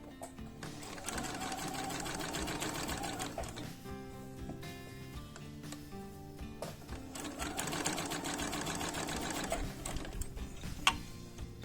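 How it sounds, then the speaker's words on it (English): Sewing machine stitching the diagonal of a quilt square, a close, rapid mechanical whirring and clatter in two long runs separated by a brief slower, quieter stretch. "We're going to stitch the diagonal of this square, so from this corner to this one."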